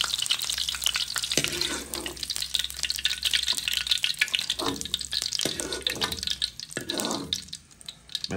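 Shrimp sizzle and crackle in very hot oil in a pan, a loud continuous frying hiss with bursts of spatter and stirring throughout, no voices.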